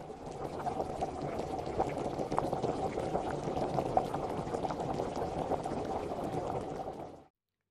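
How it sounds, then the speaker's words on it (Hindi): Raw mangoes boil in a pot of water, giving a steady, dense bubbling and churning roar that runs for about seven seconds and then stops abruptly, with no voices over it. "कैरी को बॉईल करेंगे बॉईल करने से इसका तुर्शपन कम हो जाता है"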